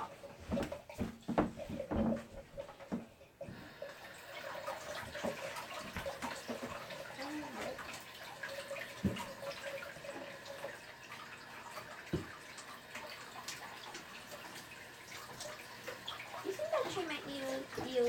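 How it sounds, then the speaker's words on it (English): Hands are washed under a running tap indoors, a continuous splashing water stream with clinks and knocks, fairly faint, while people talk over it, including a voice. "I'm gonna wash my hands off."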